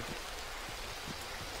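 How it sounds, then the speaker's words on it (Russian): Heavy downpour in a military shooter game set in village terrain: a dense, steady hiss of rain with faint periodic thumps underneath, continuous and fairly quiet, no voices. "Ливень пошел проливной."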